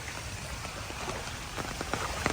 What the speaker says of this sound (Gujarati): તો મિત્રો જોઈ લ્યો વરસાદ ફૂલ ચાલુ